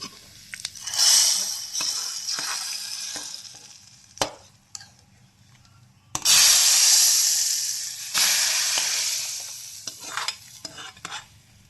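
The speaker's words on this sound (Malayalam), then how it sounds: "മുളകും കറിവേപ്പിലയും കൂടി ആഡ് ചെയ്തിട്ട് അത്യാവശ്യം നന്നായിട്ടൊന്ന് മൂപ്പിച്ചെടുക്കുക" Chillies and curry leaves frying in hot oil as a tempering for a Kerala-style lentil and taro curry: loud bursts of sizzling and spattering crackle with stirring, rising sharply twice and easing off between, with no talking.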